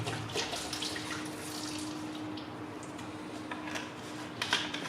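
Cleaning liquid poured into a DPF cleaning machine for a VW Tiguan 2.0 TDI particulate filter: a continuous close splashing, liquid pouring with a few light knocks and clicks near the end.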